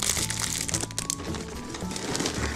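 A plastic garbage bag wrapping is handled during a look at groceries, giving close, crackling crinkles in quick irregular bursts.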